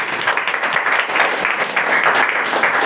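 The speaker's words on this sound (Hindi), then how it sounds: "एक बार जोरदार ताली हो जाए आपकी" A dense, loud burst of applause from a crowd, steady clapping filling the whole moment without pause.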